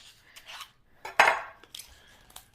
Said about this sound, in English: let's get started with just chopping up our steak.